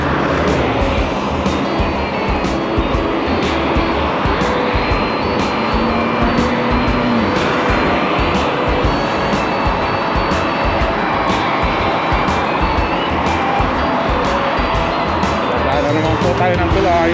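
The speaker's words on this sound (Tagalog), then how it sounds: "Dito naman tayo sa highway." Highway traffic passing close to a cyclist: continuous loud roar of engines and tires with vehicles swooshing by, wind buffeting, and someone talking over it throughout.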